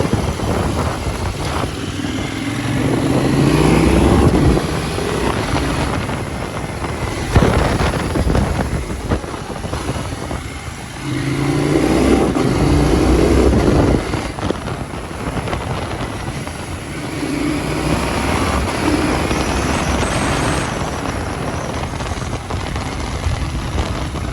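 A KTM 790 Duke L fitted with an XRACE exhaust revs hard up through the gears, its engine note rising and then dropping sharply with each quickshifter change, loud and close with wind rushing over the microphone.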